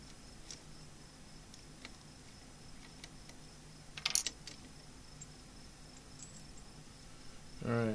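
Night insects, crickets calling around bright workshop lights during a woodturning session, a steady faint chirring bed under a quiet setting with a brief louder burst midway and a low thump at the end.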